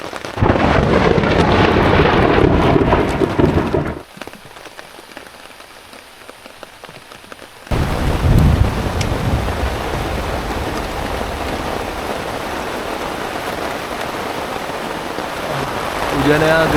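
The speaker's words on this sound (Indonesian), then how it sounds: "Hujannya gede banget guys." Heavy rain pours steadily at a forest campsite in Sukamantri, Mount Halimun Salak National Park, a loud continuous hiss that drops to a quieter patter for a few seconds before the full downpour returns.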